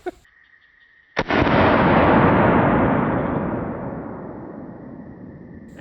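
A single loud, sharp gunshot from an FP45 Liberator pistol, followed by a long, roaring rumble that slowly fades away outdoors.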